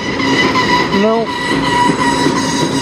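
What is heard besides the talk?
CN train passing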